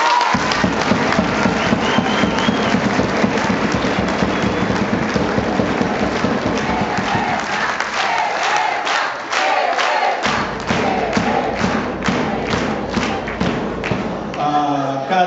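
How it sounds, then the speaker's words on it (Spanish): Comrades at an education gathering applauding, a long stretch of loud, dense clapping with sharp individual claps standing out, briefly thinning in the middle before swelling again. "No me extraña nada el aplauso de los compañeros a Mario"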